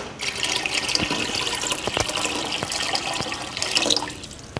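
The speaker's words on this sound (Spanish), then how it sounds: "Para cocinarla le voy a agregar 1 litro de agua." A litre of water pours steadily into a container of soaked tapioca pearls, a continuous close splashing rush that thins out near the end, with no talking.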